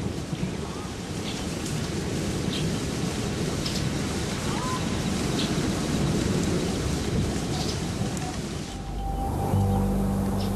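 Heavy steady rain with thunder rumbling through a storm in the Kalahari desert, broadband downpour lasting throughout before easing near the end, when a low tonal drone enters.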